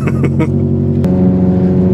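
A car's exhaust drones steadily while driving after an engine, transmission and pitch stopper mount upgrade, a low, loud rumble with a small shift in tone partway through.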